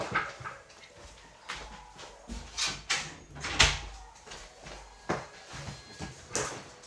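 A door is pushed shut among several soft knocks and shuffles indoors, with a dog moving about nearby and muffled bumps spread across the moment.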